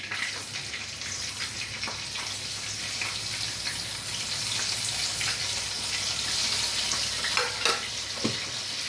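Fish pieces frying steadily in a pan, a continuous crackling sizzle with a few sharper pops near the end, close by and moderately loud, no talking.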